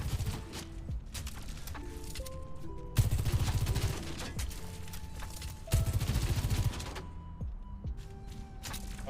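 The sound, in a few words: gunfire from a video game, firing a burst of bullets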